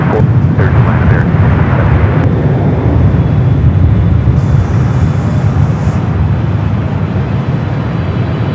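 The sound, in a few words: Boeing 777-300ER from Beijing landing at LAX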